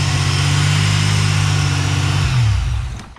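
Supercharged Pontiac Bonneville SSEi engine running at a steady, loud idle with strong low harmonics, then the pitch dips and wavers as the idle fluctuates before the sound tapers off near the end.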